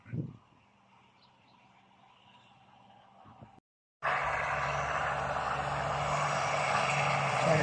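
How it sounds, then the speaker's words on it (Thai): A loud, steady tractor engine rumble kicks in after a brief quiet gap as it approaches a rice field, droning continuously close by, with fainter engine noise and birds before. "รอรถไถมาปั่น"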